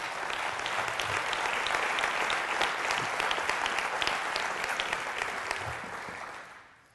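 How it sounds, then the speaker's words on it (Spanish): Congregation applauding loudly during a Christmas church sermon, a steady dense wash of clapping that fades out at the end. "dale un fuerte aplauso a Jesucristo"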